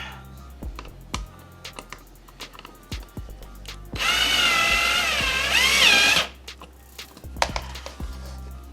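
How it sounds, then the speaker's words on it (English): A power drill whirs loudly for about two seconds, pre-drilling into a car's front end splitter, its motor whine wavering as it bites in, with scattered clicks and taps before and after. "I decided to pre-drill into the splitter."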